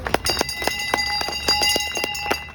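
A bell struck repeatedly in a steady, quick rhythm, each ring sharp and metallic with a sustained ringing tone beneath, loud and close.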